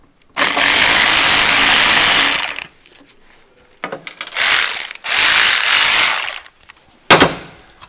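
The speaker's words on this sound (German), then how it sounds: "Mit der Akkuknarre." A cordless ratchet whirs in loud, sustained bursts while loosening nuts on a Puch Maxi moped: a long two-second run, a stuttering start, two more steady runs and a final short burst, close and alone without talk.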